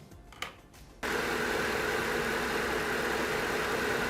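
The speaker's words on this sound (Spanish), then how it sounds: "Voy a prender el motor" A Ford F150 engine that shakes and stalls catches abruptly after a brief cranking moment, then settles into a steady, loud idle hum close by with no voices.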